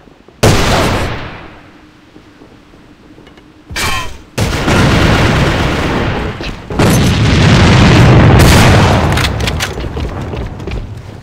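A grenade bursts in the shooter game A.V.A on the Dock map, loud booming blasts with a short one near the start, then a heavier sustained rumble of explosions and gunfire rolling on for several seconds.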